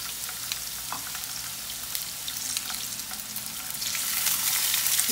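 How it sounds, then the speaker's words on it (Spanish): Zucchini sautéing in very hot olive oil for a pan of stir-fried vegetables, a steady close crackling sizzle with scattered pops that grows louder toward the end, no voices. "Tenemos aceite de oliva, bien caliente. Vamos a adicionar el zucchini."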